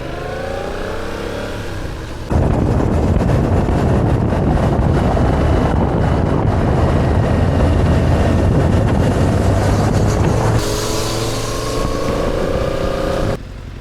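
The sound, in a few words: motorcycle riding on road, engine and wind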